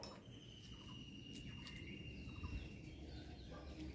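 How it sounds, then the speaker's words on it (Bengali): Birds calling on a rooftop after rain, heard as faint scattered chirps and clucking calls over a soft steady background. "ছাদে এলে কত পাখির ডাক শোনা যায়।"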